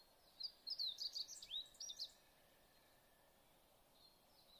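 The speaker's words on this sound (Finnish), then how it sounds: "Kuuntele lintuja, jotka visertävät ympärilläsi" Several birds chirp and sing in quick bright bursts for about two seconds, then fade to soft scattered calls over a quiet outdoor background.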